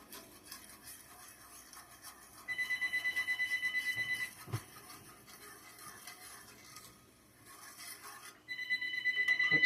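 A household telephone rings indoors in a kitchen, in two bursts of rapid electronic trilling separated by a pause, with light kitchen clatter in between.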